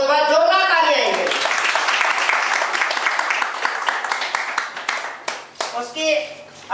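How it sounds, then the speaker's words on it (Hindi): A voice speaks briefly, then a crowd breaks into sustained applause, loud and dense, tapering into scattered claps near the end. "मैं चाहता हूँ इस बार जोरदार तालियां आएंगे।"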